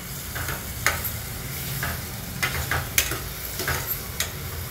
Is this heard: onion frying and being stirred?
yes